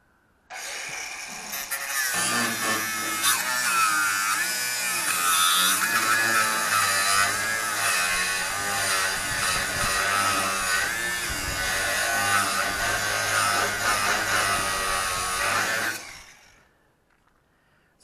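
A power screwdriver drives screws during a campervan build, a loud close continuous whirring buzz that holds steady for about fifteen seconds before cutting off.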